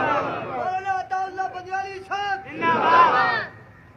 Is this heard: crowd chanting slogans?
yes